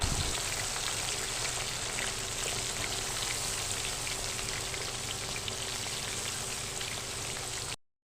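Coconut, vegetable pieces and chickpeas fry in a pan, giving a steady, close, rain-like sizzle that holds evenly for about eight seconds before cutting out.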